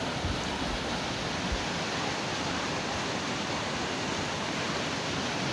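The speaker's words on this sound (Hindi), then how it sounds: "झील की एक तरफ से निकलता ये तेज़ पानी सुबह शाम ऐसे ही बहता रहता है" Fast water rushing out of one side of Lake Saiful Muluk in the mountains, a steady, dense roar of flowing water that holds constant throughout, loud and unbroken with no voices.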